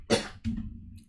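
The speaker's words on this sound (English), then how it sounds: "Sorry, excuse me about the coughing." A person coughs twice in quick succession, a sharp loud burst followed by a shorter, lower cough, close to the microphone with no talking.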